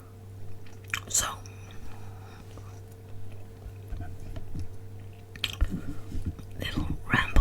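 Gum chewing with wet clicks and smacks close to the mic, irregular bursts spaced through a soft whispered ramble, faint steady hum underneath.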